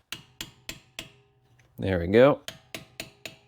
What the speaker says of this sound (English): we're just gonna unlock it with a hammer